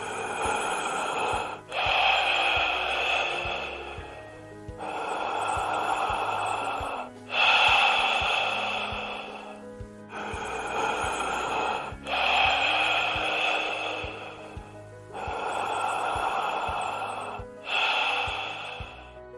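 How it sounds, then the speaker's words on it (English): Slow sleep breathing, alone and close: a deep, long inhalation, a shorter exhale, then a pause, repeating about seven times in an even rhythm. "Note the pause before each inhalation. And the deep long inhalation, which is usually longer than the exhale."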